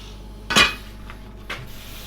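A metal motorcycle plate for a Honda CB1000R is beaten into shape, giving two sharp metallic clanks about a second apart, the first louder, close and alone in a quiet space.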